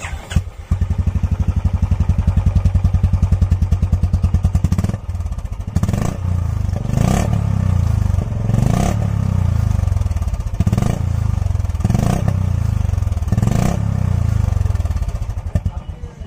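A Royal Enfield Classic 350 fitted with a Swegman Indori aftermarket silencer idles with a deep, bassy thump, then is revved repeatedly in roughly even bursts, loud and close, with no talk over it.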